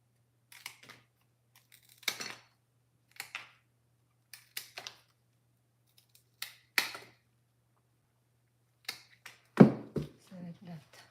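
Flower stems are snipped for a bridal bouquet in a series of sparse, crisp cuts and clicks, close and separated by quiet gaps, with one heavier thump near the end.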